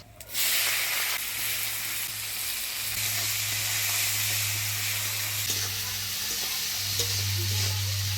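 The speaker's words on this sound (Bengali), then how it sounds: "এবার ফোড়নে দিচ্ছি শুকনো লঙ্কা, গোটা জিরা, দিচ্ছি কুচিয়ে রাখা পেঁয়াজ" Dry red chillies, whole cumin and chopped onion sizzle in hot oil, a sudden onset followed by a continuous bright hiss and crackle, with occasional stirring scrapes and a low hum in the background.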